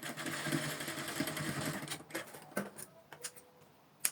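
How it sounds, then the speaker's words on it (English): A sewing machine stitches a structured cone sleeve, running in a steady mechanical whir for about two seconds, then slowing into a few short bursts and isolated clicks near the end, with no voices. "So you sew it gently like this."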